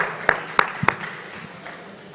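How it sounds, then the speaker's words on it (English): At an industrial manpower summit, an audience applauds a moderator: a few sharp, distinct claps stand out early over a thinner crowd clapping that fades away. "A round of applause for him, please."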